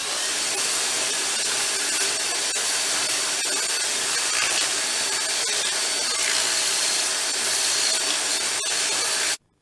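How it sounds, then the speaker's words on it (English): An oscillating belt sander grinds steadily against a wooden breadboard for several seconds, loud and close, with a harsh continuous rasp that cuts off abruptly at the end. "over on the oscillating belt sander and get this shaped up a little more"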